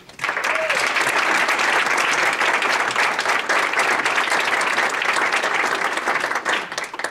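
Sustained, dense applause fills a team banquet hall as a senior is called up to receive a Golden Spike award, loud and steady from start to finish with a faint voice under it.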